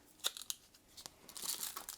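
Folding scissors are handled up close in a quiet room, with a few faint clicks and snips followed by a soft rustling scrape.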